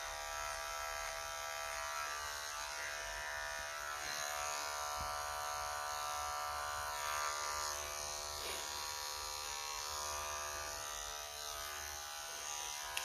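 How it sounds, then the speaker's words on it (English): An electric hair clipper buzzes steadily and close up, a constant humming drone as it blends hair, running alone without speech for the whole stretch. "Then turn the clipper to the other side and try and blend it in."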